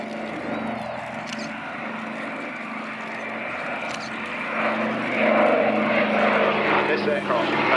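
Propeller aircraft of the US Army Air Force flying at the Duxford autumn airshow, a steady droning engine hum that swells louder toward the end, with a commentator talking over it.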